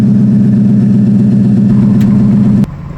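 A Ford Super Duty with the 6.2 engine idles through a Flowmaster muffler on a Dynomax catback exhaust. The close, loud, steady low rumble cuts off abruptly near the end.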